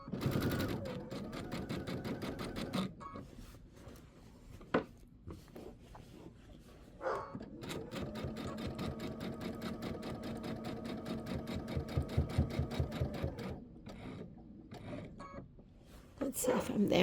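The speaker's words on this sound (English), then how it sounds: "So I'm going to go down, and then I'll go down, and there'll be some double stitching" A sewing machine stitches quilt binding in long rapid rattling runs broken by short pauses, heard close while a person talks over it.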